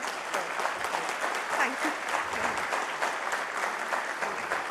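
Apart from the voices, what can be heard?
audience applause at healthcare keynote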